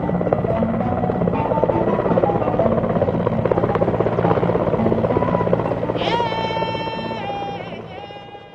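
A helicopter's rotor thumps steadily and loudly nearby, with a rising turbine whine near the end.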